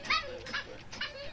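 A dog whimpers and yips in short, whiny bursts, close by and fairly quiet, as if throwing a fit.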